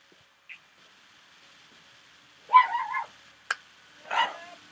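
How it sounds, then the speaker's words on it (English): A pet dog named Mina barks indoors in a few separate short bursts, with a longer yippy bark cluster followed by a sharp single yap and another bark, moderately close against a quiet room. "Mina, do me a favor and stop barking."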